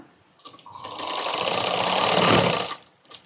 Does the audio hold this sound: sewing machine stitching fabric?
yes